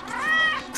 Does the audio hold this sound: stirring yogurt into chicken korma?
no